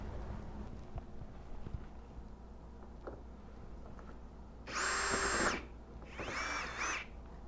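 A power drill removes hardware from a fiberglass Z31 front bumper, giving two short, loud whirring bursts near the end after quiet shop background and faint handling noises.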